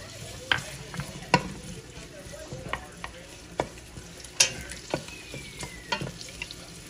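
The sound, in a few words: onion and garlic sautéing in oil for pork adobo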